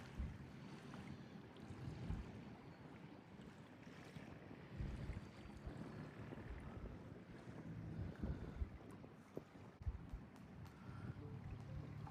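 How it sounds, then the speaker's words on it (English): Gusty easterly wind buffets a sailboat under the hills near Limestone Island. A constant rushing roar with faint low rumbles rises and falls over water noise, and no one speaks. "Wind's definitely around to the east now. Quite gusty under the hills here, which is to be expected."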